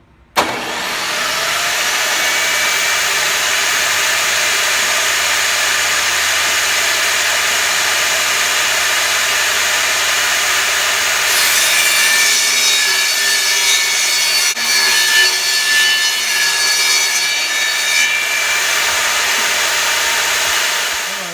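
Power saw cutting a panel piece of reclaimed birch wood for a kitchen island, a loud, steady, close whine running continuously for about twenty seconds with slight rasping changes as the blade moves through the board.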